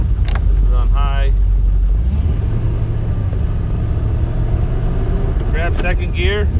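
A 1981 Ford Granada engine runs steadily with low rumble while driving and being shifted into second gear through a stiff clutch, with brief talk over it at the start and end.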